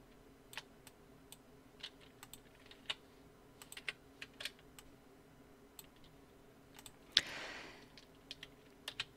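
Computer keyboard shortcut keys pressed during Photoshop work, a series of sparse, sharp single clicks spread across the stretch with one louder press and brief rustle near the end, quiet room with no talk.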